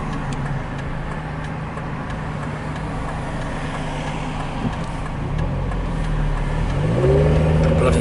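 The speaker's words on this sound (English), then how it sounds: "traffic's horrendous." Road traffic heard from inside a moving car in heavy, congested traffic, a steady low engine and road rumble throughout, with a vehicle revving and rising in pitch near the end; no talk.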